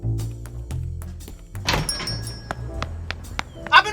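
A drawer opens in a staged radio drama, a clear wooden slide and thunk in the middle, close and fairly loud, with softer knocks and clicks before and after.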